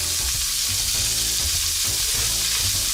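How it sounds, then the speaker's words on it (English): Onions, garlic and peppers sizzle in a hot pan for a pork chop dish, giving a loud, continuous frying hiss with light stirring scrapes throughout and no talking. "I'm going to put in the onions, the garlic and the peppers"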